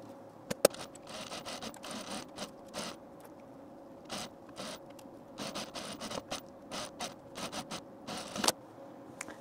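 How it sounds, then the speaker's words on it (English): A sewing machine edge-stitches along a blouse placket in short, quiet bursts of rapid needle chatter separated by brief pauses. Faint rubbing of the fabric and a single sharp click are also audible. "we're going to edge stitch along the left side of this placket here"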